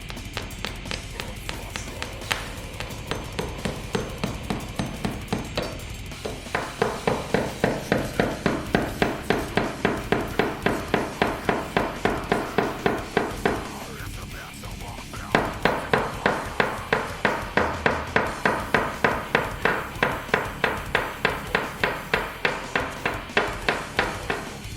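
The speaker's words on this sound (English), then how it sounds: "I'm going to be using your everyday hammer and nails." An everyday hammer drives 1.5 standard nails into a wooden drum riser with loud, rapid, evenly spaced blows. Two brief pauses break the runs of strikes.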